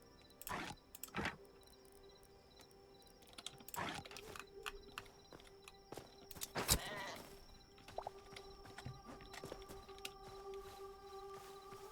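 Sheep bleating in the Hytale video game, a few short bleats scattered over mechanical clicking and ratcheting game sounds, with no talk.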